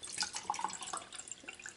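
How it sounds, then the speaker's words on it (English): Hydrogen peroxide is poured into a jar, giving a light trickle with small splashing drips close by, soft and continuous, and no one speaks. "And then we're just going to pour peroxide in it."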